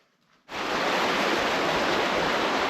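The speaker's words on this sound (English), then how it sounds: "Here's the river, listen to that." A river in Ashburton rushes loudly and steadily, a broad continuous wash of flowing water that sets in abruptly after a quiet moment and then holds constant.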